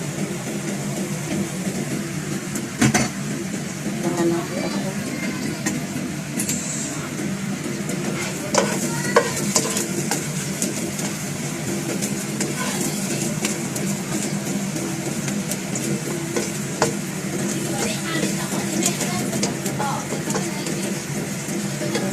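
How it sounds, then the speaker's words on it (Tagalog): Garlic and onion sautéing in a little oil, a steady close sizzle lasting throughout, with occasional faint scrapes and clicks of a utensil against the pan and no speech. "So, gigisa na natin siya."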